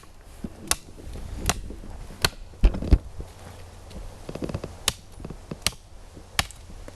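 A Condor Dundee Bowie knife chops a dead wood branch about 2.5 inches thick outdoors, with a series of sharp, irregularly spaced strikes, close and fairly loud, with no talk.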